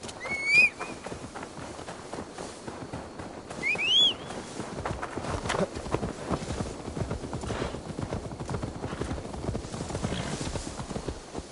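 Steady clip-clop of horse hooves from a Viking-era video game, running continuously at close range, with two brief whinnies near the start and a low musical or ambient bed underneath.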